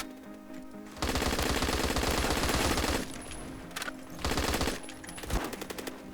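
Automatic gunfire from the Phantom Forces video game, where an M107 rifle is in use: loud, rapid bursts of shots in sustained strings with brief pauses between them, heard without talk.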